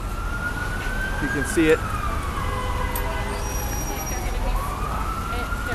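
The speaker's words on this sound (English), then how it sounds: "An ambulance." An ambulance siren wails along a New York street, rising and falling in long sweeps over steady traffic noise, with a person briefly speaking nearby.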